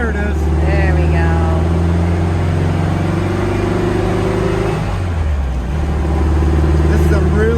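A 1967 Volkswagen Karmann Ghia engine hums loudly from inside the car after a gear change, its steady drone dipping in pitch partway through before settling again.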